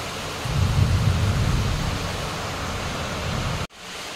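Steady, dense rushing of floodwater during heavy rain, with a broad hiss and heavy low rumble, continuous and loud, cutting off abruptly near the end.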